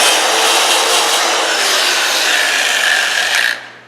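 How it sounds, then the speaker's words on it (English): A power sander with 180-grit paper smooths a wooden snowman carving, a loud close continuous grinding hiss that holds steady for over three seconds and then winds down quickly. "then I just come in here with my sander. I think that's 180."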